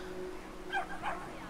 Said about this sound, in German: Oh, das ist Alter, aber ein großer Hund.